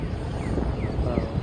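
An E-flite Habu STS radio-controlled plane flies high overhead, its motor a faint whine with gliding pitch sweeps under steady wind noise.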